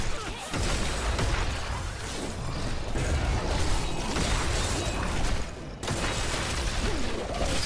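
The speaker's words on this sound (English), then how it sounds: "Nice Blood Nova, or Blood Explosion." Necromancer Blood Nova spell in Diablo 3, a dense continuous wash of crunching, bursting game effects with mechanical clatter and whooshes, loud throughout with brief dips.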